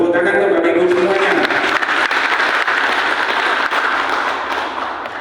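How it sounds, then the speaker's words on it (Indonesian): A crowd applauds with dense, steady clapping that gradually tapers off, filling the room at a speech by the Malang Regency education office head. "Tepuk tangan untuk Bapak Ibu semuanya."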